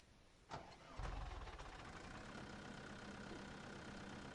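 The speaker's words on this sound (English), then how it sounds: "Yeah, not a bad little tractor" A Hurlimann tractor of about 130 to 150 hp in Farming Simulator 2015 cranks and fires with a sharp catch, then settles into a steady, even idle that continues alone.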